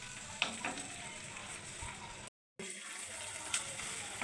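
Curry leaves, ginger and shallots sautéing together in a hot pan give a soft, fairly faint sizzle throughout, briefly cut by a moment of silence, with a few small clinks and no voices.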